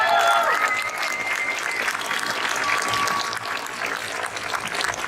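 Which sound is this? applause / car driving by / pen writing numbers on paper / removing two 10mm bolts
applause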